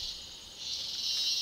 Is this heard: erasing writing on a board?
no